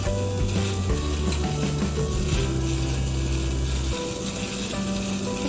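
Steady crackling sizzle of vegetables frying in a pan, continuous and close, with a low hum underneath and no speech.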